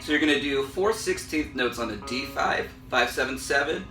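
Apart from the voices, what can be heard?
None of the usual background noises is heard.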